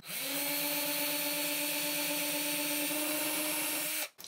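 A power drill bores into the wooden tone bar of a 1950 Silvertone Econo-Archtop guitar, a steady loud whirring hum held for about four seconds before abruptly stopping.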